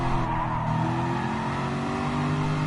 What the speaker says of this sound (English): I'm just doing burnouts.